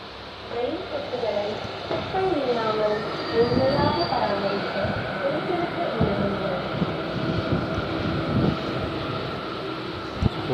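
A MEMU express train runs between Coimbatore and Shoranur, with steady rolling rumble and the squeal of wheels on rail filling the whole stretch, close and continuous, while voices murmur in the background.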